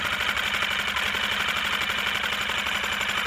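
A Lehr motor, a small propane four-stroke engine, barely idling after carburetor adjustment, giving a steady close rattling, buzzing drone with fast uneven knocks throughout, no talk.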